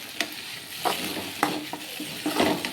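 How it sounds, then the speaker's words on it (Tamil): Chopped vegetables fry in oil for vermicelli upma, a constant close sizzle broken by several sharp scrapes and taps of a spatula stirring the pan. "ஆயிலையே காய் கொஞ்சம் ஃப்ரை ஆகட்டும்,"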